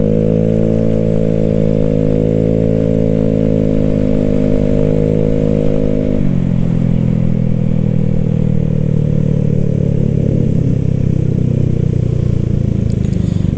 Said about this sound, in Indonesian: Oh, Yamaha Gear ya.